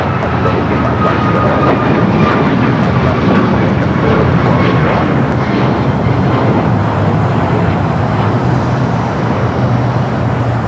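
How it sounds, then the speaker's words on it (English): United Boeing 737 MAX 8 departing LAX toward Kahului: a loud, sustained jet roar that stays steady and broad throughout, with road traffic faintly mixed in. "United 737 MAX 8 heading to Kahului."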